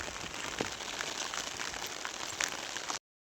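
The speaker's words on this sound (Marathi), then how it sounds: "चला आता पाऊस आलाय चला घरी" Rain falling on a tomato field, a steady soft patter of drops across the whole clip, fairly faint and even, with no voices.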